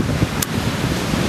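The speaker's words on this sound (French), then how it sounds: "un bon vent d'est, il souffle pas mal" A strong east wind blows across Anglet beach, steady roaring gusts buffeting the microphone over a low surf wash, with one brief crackle.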